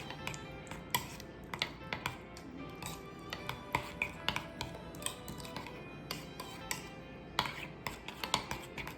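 A spoon mixes homemade vegan Big Mac sauce in a bowl, giving quiet, rapid clicks and taps against the dish that repeat unevenly and close by.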